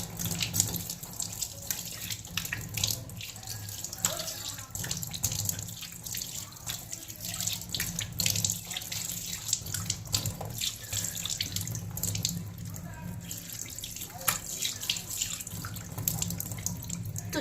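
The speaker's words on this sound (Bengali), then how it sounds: "এবার আমি মুখটা এখানে ধুচ্ছি" Tap water runs steadily into a sink while someone washes their face, a continuous close splashing stream with small drips and splatters throughout.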